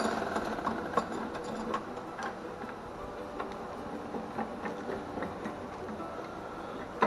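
A handheld power drill runs steadily in a diesel technology shop after catching and spinning around in the user's grip, giving a continuous whirring motor drone with faint irregular ticks and no speech.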